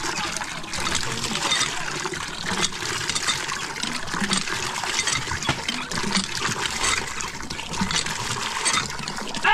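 Water gushes hard from a hand pump, a steady, dense splashing rush that continues without a break, close by and fairly loud.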